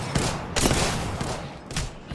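Gunfire from the player's weapon in Apex Legends cracks out in three or four loud, close bursts, spaced unevenly with brief gaps between them and no talk.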